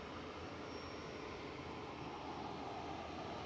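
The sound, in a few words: Jet2 Boeing 737-300 jet aircraft at Manchester Airport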